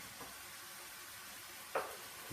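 Tomatoes dropped into a hot frying pan for spaghetti bolognese give a soft, steady sizzle, with one brief louder burst partway through, heard alone at low volume.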